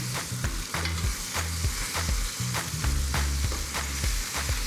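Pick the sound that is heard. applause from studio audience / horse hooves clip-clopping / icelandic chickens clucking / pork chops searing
pork chops searing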